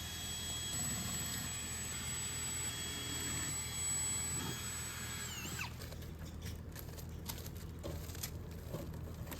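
A power drill whines steadily for several seconds while boring holes for wall anchors to mount a star jasmine trellis around windows. The pitch then drops as it winds down, followed by scattered clicks and handling noises, all fairly quiet.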